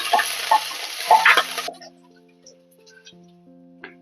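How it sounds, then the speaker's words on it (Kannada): Curry leaves hit hot oil already frying garlic, giving a close, loud crackling sizzle that lasts under two seconds, then drops to near quiet with faint kitchen tones. "ಈಗ ಕರಿಬೇವು ಹಾಕ್ತಾ ಇದ್ದೀನಿ."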